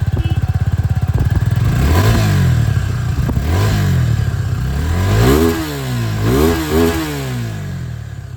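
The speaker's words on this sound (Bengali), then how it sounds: "এখানে ডুয়াল ব্যারেল আছে আর এক্সস্টের সাউন্ডটা আপনারা শুনে নিন" A Suzuki Gixxer 250 motorcycle with a dual-barrel exhaust idles close by, then revs up and down several times, its throaty exhaust note rising and falling loudly.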